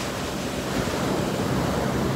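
Ocean surf rolls onto a beach under steady gusts of wind buffeting the microphone, a loud continuous wash with no talking.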